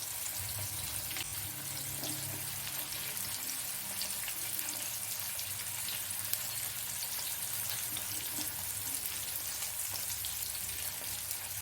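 Parrotfish pieces fry in hot oil with a continuous, crackling sizzle. Fine popping and spattering stay steady and fairly close throughout, with no voices.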